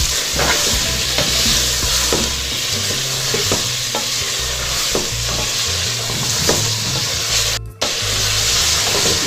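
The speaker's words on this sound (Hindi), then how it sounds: "अब मैं इसमें ये मटन शामिल कर दूंगी और इसको भी भून लेंगे इसी तरह, प्याज में ही भूने।" Mutton pieces fry with onions in a pan, giving a loud continuous sizzle with periodic scraping stirs throughout, close up and with no talk.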